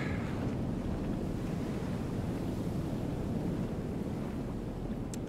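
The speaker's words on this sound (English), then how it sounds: "I really like how the waves are calmer inside the boundary than outside of it." Water waves lap in the game Firmament, a steady, soft wash of surf with a low rumbling, windy undertone that runs on without a break and no speech.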